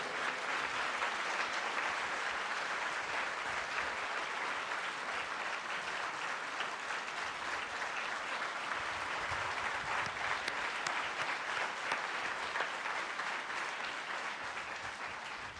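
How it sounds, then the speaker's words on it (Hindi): Sustained, dense audience applause fills a religious katha gathering, steady and loud throughout with no break or voices on top. "जोरदार तालियां होनी चाहिए।"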